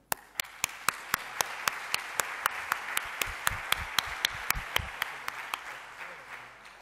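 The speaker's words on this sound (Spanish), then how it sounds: "pido un aplauso para él" An audience applauds to welcome Jaime García-Legaz to the podium at a talk, with sharp, evenly spaced claps standing out near the microphone over softer clapping from the room, tapering off toward the end.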